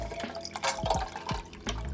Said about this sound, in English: Not me spilling water everywhere, trying to get a cute clip